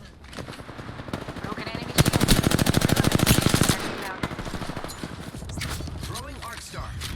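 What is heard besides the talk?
enemy gunfire in the video game Apex Legends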